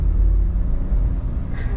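A 2021 Ford F-150 Lariat with the 2.7-litre engine accelerates gently, giving a deep, steady, smooth rumble heard from inside the cab, with no talking.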